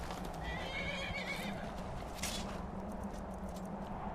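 A horse in the video game Skyrim gives a clear whinny over a steady clip-clop of hooves, the neigh rising and falling in the first couple of seconds before a sharp burst, with game ambience underneath.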